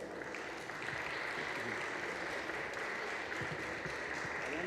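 Steady applause from an audience welcoming a guest author at a book presentation for "WTF con tu voto" at a book fair, a dense, even wash of clapping at moderate level throughout with no speech over it.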